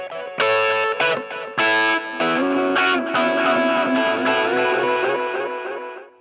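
Music played through a Pulsar Echorec echo plugin: bright, distorted plucked or keyed notes in a rhythmic phrase, each repeating and smearing into trailing echoes before the sound decays to silence.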